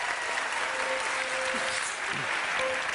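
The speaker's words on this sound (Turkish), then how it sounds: "Evet, Yiğitan'a bir kocaman bir alkış alalım önce." A television studio audience on a Turkish talk show bursts into loud, dense, continuous applause that holds steady for about three seconds, with a faint tonal note running through the clapping.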